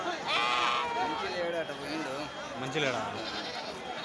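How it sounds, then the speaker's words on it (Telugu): Goats bleat repeatedly in wavering, nasal cries close by at a weekly goat and sheep market in Mydukur while someone talks over them. "ఇక్కడ కట్ట మేకలు ఉన్నాయి"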